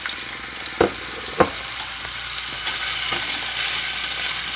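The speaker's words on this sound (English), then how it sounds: "I basically want to fry my fish." A fish fillet, cut in two to fit a small pot, fries in hot oil with a steady close sizzle and a couple of sharp crackles and pops near the start, with no talking.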